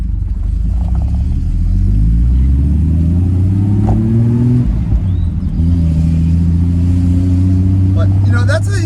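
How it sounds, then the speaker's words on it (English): A Triumph TR6 engine revs, its exhaust note rising and falling through several strong sweeps, loud and close, with someone talking over it. "that's how you can tell a car is healthy. All you hear is exhaust."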